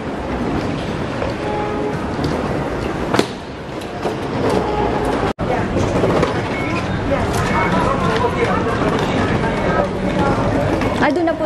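Train at a Singapore airport terminal rumbling steadily with a broad, continuous roar, loud and close, with one brief dropout midway.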